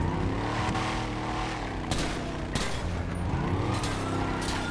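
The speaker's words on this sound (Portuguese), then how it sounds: "Dando um tiro." Gunfire in the video game GTA 5 during a police roleplay: several sharp shots crack at irregular intervals over a dense, constant roar of engines and traffic noise.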